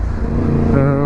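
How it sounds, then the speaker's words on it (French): A Yamaha MT-10 motorcycle engine hums in stop-and-go traffic in third gear, a short, close, droning note that rises slightly in pitch near the end, with a voice talking over it. "C'est pas si compliqué de ça que de rouler en MT10 dans les bouchons."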